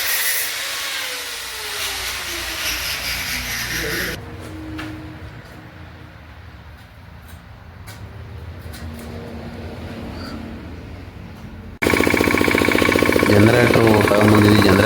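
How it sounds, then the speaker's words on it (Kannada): Generator running on a house wiring job site to power welding work, a steady engine drone that drops back for a stretch before returning loudly and rougher, with voices heard faintly. "ಜನರೇಟರ್ ಆನ್ ಮಾಡಿಕೊಂಡು ವೆಲ್ಡಿಂಗ್ ಮಾಡ್ತಿದ್ದಾರೆ ಮೇಲೆ."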